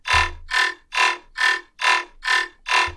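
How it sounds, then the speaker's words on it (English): A distorted dubstep synth bass pumps out seven even quarter-note chugs, each a short swelling burst with a clear gap between, played alone. "There's also this thing that's just like the quarter note chugs going in the back."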